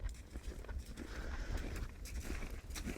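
Horse walking in an arena during a riding lesson, with steady soft hoof clip-clop under constant low rumble and background noise, fairly faint and distant, with no clear talking.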